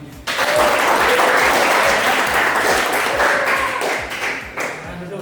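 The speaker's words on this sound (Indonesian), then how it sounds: "Oke, tepuk tangan semuanya." A classroom of students applauds after a quiz. The clapping starts suddenly, stays loud and close, then thins slightly toward the end.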